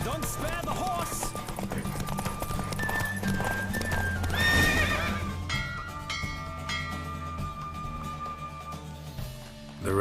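A horse galloping in a race in The Witcher 3 video game, rapid hoofbeats with loud neighing and whinnying over game music, fading toward the end.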